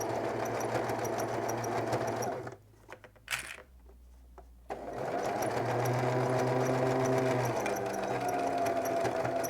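A sewing machine finishing the hem seam of a sweatshirt dress runs steadily and close, stops briefly for a few seconds of quiet handling, then resumes a long continuous run.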